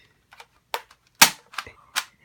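A toy cap gun snaps off sharp cracks during a game of Russian roulette, several short crisp pops spaced irregularly, close and loud with no talk.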